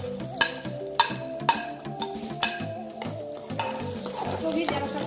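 Onion and carrot frying in oil in a pan, with a steady sizzle under repeated sharp clinks of a spoon stirring against the metal, close and moderately loud.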